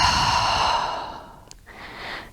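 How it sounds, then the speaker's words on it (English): A slow cleansing breath let out through an open mouth during a guided relaxation, a long breathy exhale that fades away, followed by a softer, shorter airy breath, close and unhurried with no talking. "Inhale through the nose. Open the mouth, exhale it out."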